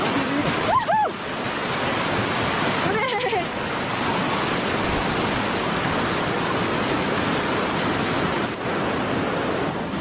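A river rushes steadily through a remote village in Arunachal Pradesh, its broadband roar constant and close, with brief voices breaking in near the start and again around three seconds.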